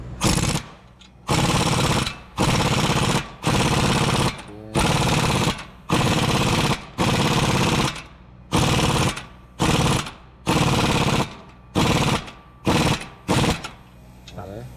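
An impact wrench removes wheel lug nuts on a 2015 Nissan Altima, firing in about a dozen loud, rattling bursts of roughly a second each, separated by brief pauses.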